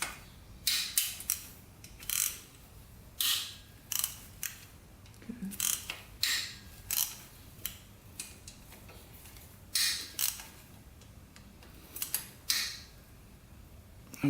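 Ratchet wrench clicking as it works loose tight, long-seized bolts on an old quad that sat for years, in repeated bursts of rapid close metallic ratcheting separated by short pauses, with no talking.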